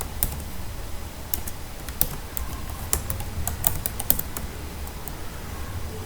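Steady, fairly close typing on a computer keyboard while entering code, with irregular bursts of key clicks and a few louder keystrokes over a faint background hiss.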